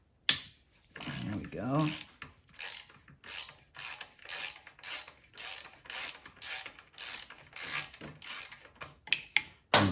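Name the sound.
ratchet with extension loosening 12 mm bolt on KTM 390 exhaust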